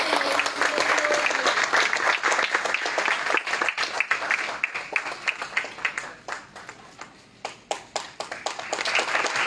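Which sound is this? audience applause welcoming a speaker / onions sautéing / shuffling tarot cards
audience applause welcoming a speaker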